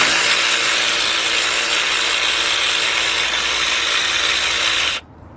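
A ratchet works a 13mm nut on the exhaust of a Chevy S10 pickup, giving a dense, steady rasping clatter for about five seconds that stops abruptly, with no talking.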